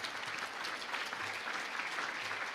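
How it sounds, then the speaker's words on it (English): Audience at a student production awards ceremony applauding, a steady dense wash of clapping from a room full of people, moderately distant and continuous with no break. "I would like a round of applause for the work that we are doing"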